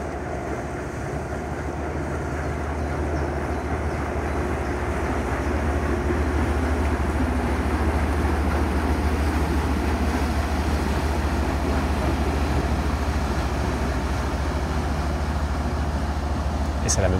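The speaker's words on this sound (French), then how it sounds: "Là, on pourrait dire qu'il y a un bateau qui passe" A boat passes on the water with a steady low engine drone and broad rushing wash that holds at an even, fairly loud level throughout, with a faint wind-like hiss above.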